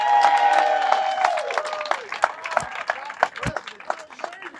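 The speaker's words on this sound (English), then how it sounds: "So let's give a big round of applause for Tom Cotton" At a political rally for a Senate candidate, an audience gives scattered, uneven clapping mixed with cheering voices that gradually thins out.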